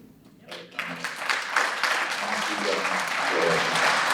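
At a Williamson County growth plan committee meeting, the audience's applause starts faint, then builds into a steady, moderately loud clapping that continues to the end.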